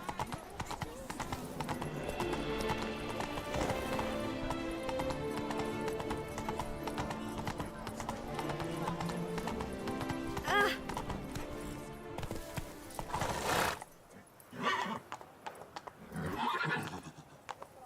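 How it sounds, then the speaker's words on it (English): Roach, the horse in The Witcher 3: Blood and Wine, gallops with steady hoof clip-clop and neighs over busy game music and ambience, and the hooves fade into scattered quieter sounds near the end. "That's it, Roach."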